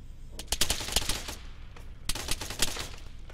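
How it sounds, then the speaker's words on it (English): Gunfire in the video game Arma 3, Exile mod: two clusters of rapid sharp shots, a burst around the first second and another after a short pause, crisp and moderately loud, with no talking. "Who shot that?"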